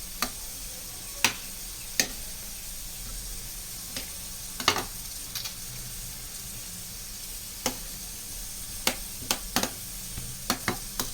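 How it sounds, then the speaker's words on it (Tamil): Tenkasi-style mutton biryani being stirred in a pot during dum cooking: a soft, steady sizzle with scattered sharp clicks of the spoon against the pot, quiet and close, with no voices. "எல்லா பக்கமும் கிளறி விடணும். அப்போ தான் கீழே அடி பிடிக்காமல் இருக்கும்."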